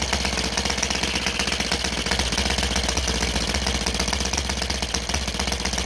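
A Saito FA182 twin-cylinder model aircraft engine with alternating firing, running on 20:1 gasoline, gives a continuous buzzing, rapid-firing drone that stays loud and steady throughout with no voices.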